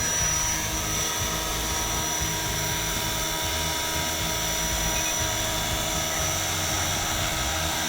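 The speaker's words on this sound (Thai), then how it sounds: "ใบพัดให้หมุนจนสุดเสียง สุดเสียงแล้วเร่งไปหนึ่งขีด ค้างไว้ครับ" An EC135-style Flywing H1 RC helicopter spins its rotor at full speed, giving a loud, steady, high-pitched whine with a buzzing motor drone close to the mic throughout.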